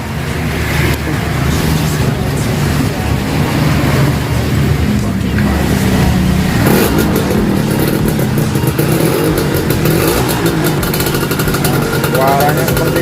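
A Yamaha F1ZR two-stroke motorcycle engine fitted with an RX piston runs loud and close, a raspy continuous idle with a brief blip of throttle midway, while someone talks over it.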